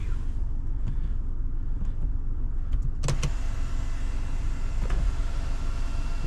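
Power windows whir upward inside a BMW car parked in Riyadh, a steady low motor hum running under the engine idle with a couple of sharp clicks from the switches near the middle.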